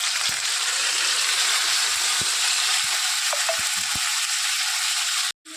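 A ginger, green chili and cashew paste fries in a pan with a continuous hissing sizzle, a few sharp clicks and utensil taps, ending in a brief cutoff.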